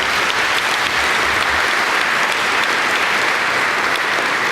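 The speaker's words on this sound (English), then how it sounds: "Let's give Carla a round of applause for her bravery." An audience at a Fulton County gathering applauds Carla Miles, loud dense clapping sustained evenly throughout, with no voices over it.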